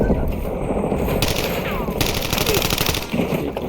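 Rapid automatic fire from Black Ops 7 guns in Warzone, a dense, continuous rattle of shots close up, with a voice speaking briefly over it.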